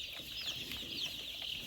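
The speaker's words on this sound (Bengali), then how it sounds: "আমার সামনে যে মুরগিগুলো দেখতে পারতেছেন" A crowd of nine-day-old brooded Tiger breed chicks peeps continuously, a dense, shrill chorus of high chirps over a steady background.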